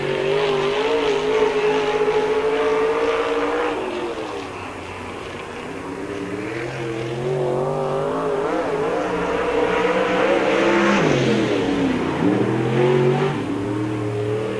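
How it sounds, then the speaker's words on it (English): A number 45 race car runs a qualifying lap at the 1997 Spoon River Speedway Summer Nationals, its loud engine revving hard and continuously, dipping briefly mid-lap as the driver lifts, then climbing again under open-air crowd ambience. "Dave Walden will give the green flag for his first official qualifying lap of the night."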